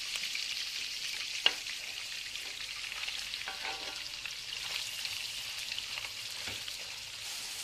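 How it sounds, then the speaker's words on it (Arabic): Chicken pieces frying in hot oil or ghee give a steady, soft sizzle with a few sharp pops breaking through, and no voices. "الزيت او السمنة حامية. هلا بنحطهم على دفعات"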